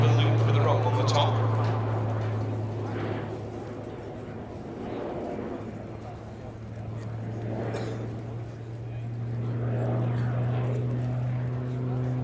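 A Pilatus PC-9M turboprop of the Slovenian Armed Forces flies an aerobatic display at RIAT, a steady propeller drone that swells and fades as it passes, with an announcer talking over it.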